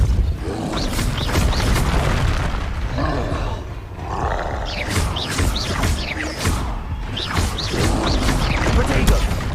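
The Repulso spell cast in the video game Hogwarts Legacy, a dense, loud roaring blast with repeated booms, crashes and thuds rolling on continuously at close range.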